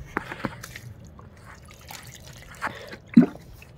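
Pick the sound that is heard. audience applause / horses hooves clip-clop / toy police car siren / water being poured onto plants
water being poured onto plants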